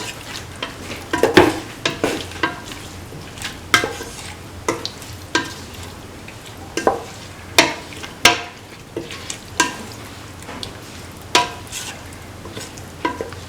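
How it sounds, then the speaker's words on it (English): Salt being stirred into a beef and bottle gourd stew in a pot, with a steady sizzle underneath and a series of sharp, regular scraping strokes of the spoon, fairly close and with no talking. "Mix the salt into the beef and the other ingredients."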